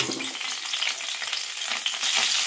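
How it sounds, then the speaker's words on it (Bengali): Cauliflower fries in hot oil in a pan with a dense, close, continuous sizzle and occasional stirring scrapes, with no voices. "তো এবার ফুলকপিগুলো ভেজে নেব।"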